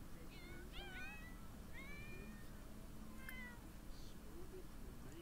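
A cat in The Sims 4 meows several times in rising, chirpy calls over a steady game background hum. No one speaks.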